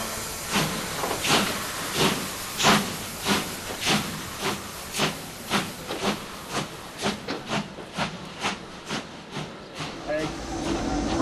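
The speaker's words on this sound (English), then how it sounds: "Brakes are released, opening up the throttle lever." Steam locomotive of the Disneyland Railroad, the E.P. Ripley passenger train, releasing its brakes and starting off, with a string of rhythmic hissing chuffs that speed up and grow tighter, loud and close.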